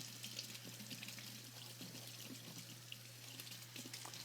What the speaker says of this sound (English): I'm just going to rinse this colander.